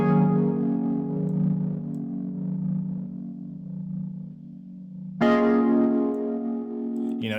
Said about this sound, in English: All right, so we get that tape distortion, which is very dope.